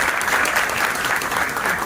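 An audience claps for a speaker at a Marathi guest lecture held at an engineering college, a dense, loud, continuous round of applause that fills the whole two seconds with no pauses.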